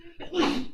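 A single quick sneeze, close and sharp, lasting under a second.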